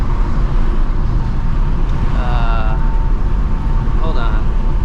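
A 2024 Ford Mustang GT with a loud exhaust, heard from inside on a late-night drive as a steady, dense engine and road roar that stays close and constant throughout.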